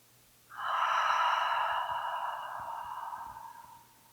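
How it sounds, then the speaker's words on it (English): One slow, deep breath drawn in and let out, an airy rushing hiss that swells quickly, holds, and fades gently over several seconds, close and alone in a quiet yoga setting. "take a deep breath in through your nose. And exhale, side out through your mouth."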